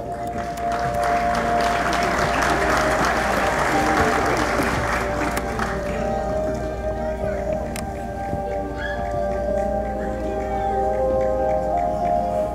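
An audience at an engineering association's swearing-in ceremony claps steadily and loudly for about six seconds, the clapping thinning out afterward while a faint tone and background murmur continue.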